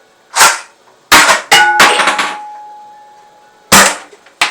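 Cartridge toy blaster fires several sharp loud cracks, followed by the bright metallic clatter and pinging of spent shells dropping and bouncing on a hard floor, with one final shot near the end.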